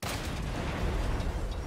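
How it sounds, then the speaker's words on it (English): A loud, sustained explosion blast in the robot survival video game Generation Zero, with dense rumbling noise that fills the whole stretch without a pause. "The explosion radius in this game is ridiculous."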